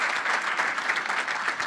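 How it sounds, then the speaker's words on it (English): An audience at a business talk gives a short burst of dense, sustained applause, loud and close, many hands clapping together without any voices. "Guys, give Mikita a round of applause for the content here"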